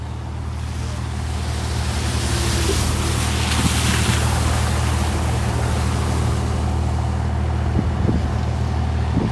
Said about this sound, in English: See how these cars here look, they're just keeping to the left hand side as they go through.